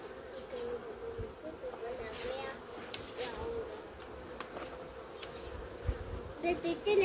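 Honeybees buzz around an opened hive being prepared for winter after an amitraz treatment, a dense continuous drone close by, with occasional clicks and handling sounds.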